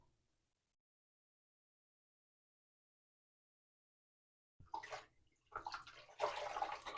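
Water running onto a synthetic wig as it is wetted for washing, starting suddenly after a long silence and splashing unevenly, loud and close, with no talking.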